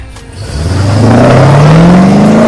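A Chevrolet Camaro engine revs up hard, its pitch climbing steadily from a low rumble into a loud, rising roar that holds for about two seconds before cutting off, close and alone.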